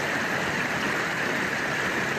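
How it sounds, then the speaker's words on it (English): Small waterfall in a desert canyon in Escalante, Utah, giving a steady, even rush of splashing water that fills the whole stretch without pause. "Another waterfall,"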